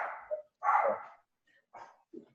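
A dog barks several times in short, irregular bursts, moderately close, with quiet gaps between the barks and no one speaking.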